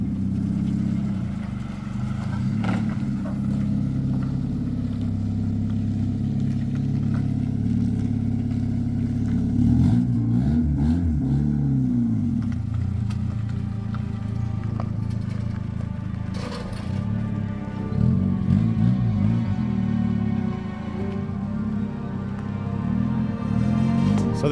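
A rough, rumbling engine of a 1998 Honda Civic with an exhaust broken in the center idles and revs nearby, its uneven, blatty exhaust note loud and continuous throughout.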